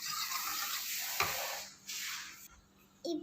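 Leftover cooked rice being stirred and dissolved in water in a pot for palaya sadham, a soft, close swishing and sloshing in uneven strokes with brief pauses and a light knock against the vessel.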